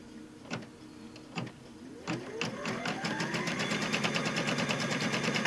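An embroidery machine stitches a mug rug in the hoop, starting with a few separate needle bursts and then settling into a steady, fast mechanical chatter that runs close and continuous to the end.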